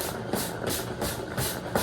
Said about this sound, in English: I've got my steam going here. I'll give it a quick little mist of steam.